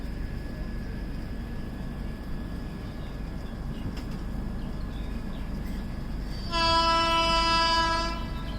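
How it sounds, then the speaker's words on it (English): Steady rumbling of a train coming out of a tunnel and rolling past in the distance, on a Kerala to Mumbai route, then a loud sustained horn blast near the end. "There's a train coming out of the tunnel."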